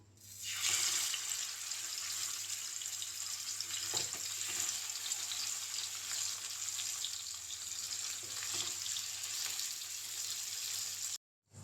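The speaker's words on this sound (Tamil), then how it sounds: "அடுத்து மீதி இருக்கக்கூடிய 3 மீனையும் பொரிச்சிக்கலாம்" Ayala fish frying in hot oil, a steady, dense sizzle that holds at an even level, close and alone, until it cuts off abruptly near the end.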